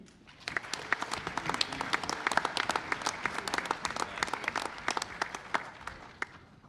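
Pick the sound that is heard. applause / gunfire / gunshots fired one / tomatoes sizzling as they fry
applause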